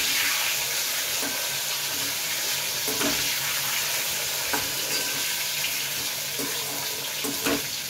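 Raw mango pieces, cut into long strips and coated in turmeric, go into a hot pan and fry with a loud, constant sizzle, broken by light scraping and stirring clicks throughout.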